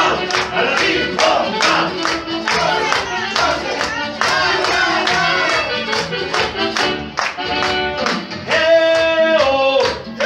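A crowd at a keyboard show claps along in a steady, even beat over loud live keyboard music, the claps landing evenly throughout.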